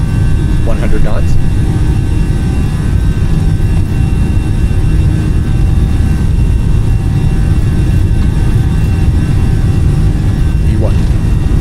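Fenix A320 jet engines roar loudly and steadily during the takeoff roll in Microsoft Flight Simulator, a constant dense rumble with faint clicks, while a voice speaks briefly over it.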